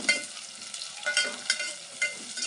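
Curry leaves dropped into a hot pan for a dried-fish onion tamarind stew crackle and sizzle steadily, with sharper bursts of spitting and stirring scrapes every half second or so, close and fairly loud with no voices.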